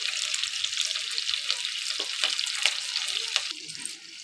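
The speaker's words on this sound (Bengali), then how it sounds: "আমি রসুন কুচানো দিয়ে দিচ্ছি" Chopped garlic fries in oil in a pan for egg chilli, a fairly quiet, continuous high hiss with a few faint stirring taps that fades slightly at the end.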